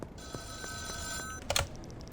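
A phone rings in the video game Schedule I, a steady electronic trill repeating in short bursts under low background game ambience.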